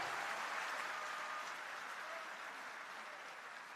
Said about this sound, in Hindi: बहुत सारी तालियां एक बार फिर से होनी चाहिए श्री भगवंत मान जी के लिए